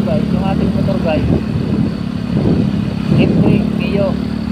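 A Yamaha Mio M3 125 motorcycle engine runs close by with an uneven, sputtering idle and low rumbling chug, while someone talks over it throughout.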